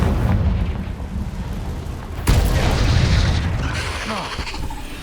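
Explosive blasts from the Confringo fire spell in the video game Hogwarts Legacy: a loud booming burst at mid-clip over continuous rumbling combat noise, with further crackling impacts following.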